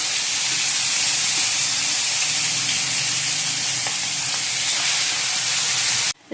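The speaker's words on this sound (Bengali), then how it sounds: "তেলটা গরম হয়ে গেছে, এবার মাছগুলো দিচ্ছি।" Fish pieces, catla belly and bata, frying in hot oil, a steady loud hiss and sizzle that continues unbroken for about six seconds, with no talking.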